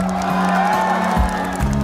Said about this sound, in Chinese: 那么掌声加尖叫声